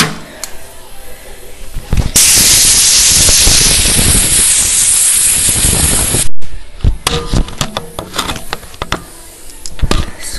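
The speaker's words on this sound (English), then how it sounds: "now blow out your air cleaner" Compressed air blasts through a lawnmower's air cleaner in one loud, continuous hiss lasting about four seconds, followed by handling clatter and knocks from the part, with faint talking around it.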